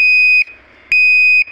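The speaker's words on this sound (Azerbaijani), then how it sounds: "həyəcan siqnalı işə düşür" An overload alarm on the protection panel of an 11 kW electric motor driving a fodder chopper beeps loudly. Two long, steady electronic tones sound back to back with a short gap between them, with no talking.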